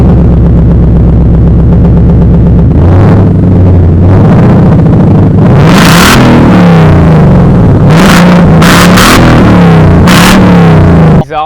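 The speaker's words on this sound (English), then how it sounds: "what you just heard was a Flowmaster axle back exhaust that is" A 2020 Ford Mustang GT with a Flowmaster axle-back exhaust starts and rumbles loudly at close range, idling low before several sharp revs climb and fall, with no talking.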